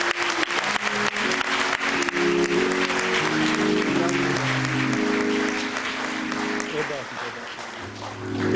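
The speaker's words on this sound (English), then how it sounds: "please give his family another round of applause" A large audience at a memorial service for George Floyd applauds in a loud, sustained roar of clapping, with voices and calls rising over it before it eases slightly near the end.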